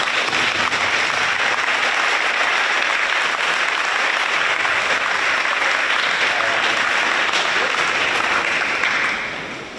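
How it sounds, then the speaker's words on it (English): At an awards night, an audience gives students a long, even round of applause, dense and loud throughout before fading out at the end. "I need to look at these folks and give them a round of applause"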